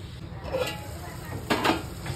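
A metal lid goes onto a pot of spicy dal mirchi cooking on the stove, with a brief clatter and clink of metal against metal over a faint sizzle.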